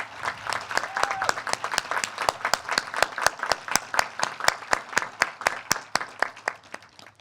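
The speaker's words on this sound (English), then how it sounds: "Let's give a round of applause for them and any current military officers or veterans in the crowd." Graduation ceremony crowd applauding military officers and veterans at the 2021 KCHS commencement: dense, steady clapping from many hands, with sharp individual claps standing out near the front and continuing evenly throughout.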